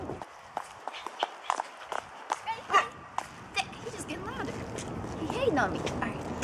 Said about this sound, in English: There's a dog hating on me right now, just barking for no reason.